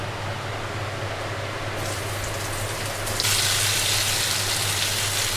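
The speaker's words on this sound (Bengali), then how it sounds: "এবার এই তেলে আমি ভেজে নেব হলুদ, লঙ্কা গুঁড়ো আর লবণ দিয়ে মেখে রাখা আলুগুলো" Potatoes coated in turmeric, chili powder and salt fry in hot oil with a steady, dense sizzle that brightens and grows louder partway through, with no voices.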